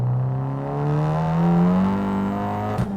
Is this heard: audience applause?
no